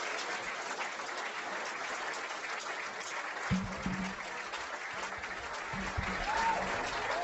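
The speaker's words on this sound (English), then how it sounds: "Have a round of applause for Kevin Shipp" Applause for a former CIA officer rises from a crowd at a talk. The clapping is steady and sustained, with faint background voices and a few brief low tones partway through.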